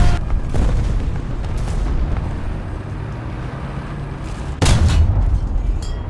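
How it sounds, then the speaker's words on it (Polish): An explosion booms during a War Thunder tank battle fought in an M4A1 (76) W Sherman, a sudden deep blast that cuts through low rumbling game noise near the end. "Oj, wybuch."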